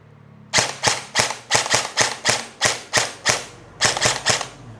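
An ENC 855 airsoft rifle fires semi-automatically, about fifteen sharp, evenly spaced close shots over a few seconds with a brief pause before the last burst of shots.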